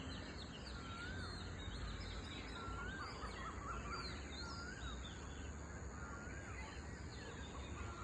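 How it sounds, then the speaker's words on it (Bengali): Many birds call and chirp at dawn, repeated short whistled notes and tweets scattered throughout, fairly faint over a steady background hiss. "ভোরবেলার দৃশ্যটা কত সুন্দর আর কত পাখির আওয়াজ"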